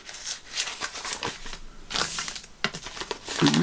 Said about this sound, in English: I'm going to crumple it up a bit more